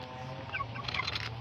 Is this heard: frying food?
no